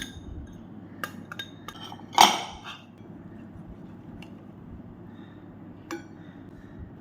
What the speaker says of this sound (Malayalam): എട്ട് ടേബിൾ സ്പൂൺ കോൺഫ്ലോർ അതും നല്ലതുപോലെ ഒന്ന് ഇളക്കിയെടുക്കാം